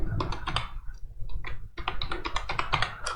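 Close, crisp computer keyboard typing while entering Angular code, with quick clusters of keystrokes and a brief pause midway, no speech.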